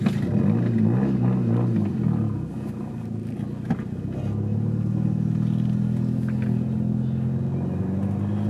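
An Audi A3 with a catless exhaust drives along, its engine droning steadily and loudly from inside the cabin, with the pitch and volume rising and falling through revs and gear changes.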